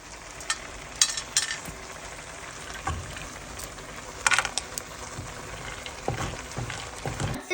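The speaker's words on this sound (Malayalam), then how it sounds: "നട്ട്സ് ഇപ്പൊ വറുക്കുക ഡെക്കറേഷനിൽ." Nuts fry in a pan for a carrot halwa garnish, with scattered close crackles and pops and occasional stirring scrapes over a soft background hiss.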